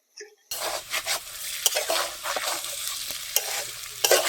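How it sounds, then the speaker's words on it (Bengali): Potato slices and pangas fish pieces fry quietly in a pan: a soft, even sizzle under repeated scraping and clattering strokes of a spatula stirring the pan, heard close with no talking. "এবারে এই আলু ভাজাটাকে এভাবেই হালকা আছে দশ থেকে পনেরো মিনিট ভেজে নেব"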